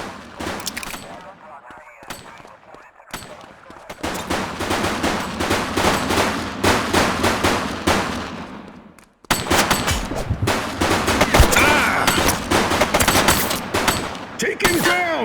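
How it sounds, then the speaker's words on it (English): Gunfire from a police shootout against gang members in the video game The Precinct: dense, rapid bursts and volleys of shots, loud and nearly continuous, with a brief silence midway before the shooting resumes. "She's shooting!"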